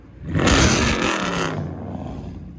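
A 2012 Chrysler 300 SRT8's 6.4L HEMI V8 with true dual exhaust and straight pipes roars as it revs hard for about a second, then settles into a deep, rumbling idle.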